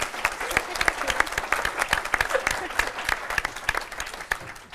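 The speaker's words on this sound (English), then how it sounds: "May I have an applause?" A conference audience of auditors gives applause, a fairly quiet room of scattered individual claps that patter unevenly throughout.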